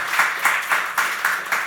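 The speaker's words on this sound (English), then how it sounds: "So let's applaud once again to Jonathan." Audience applause following a public talk at the KIEF 2017 event, heard as a short burst of clapping that swells and fades in rhythmic pulses, moderately close.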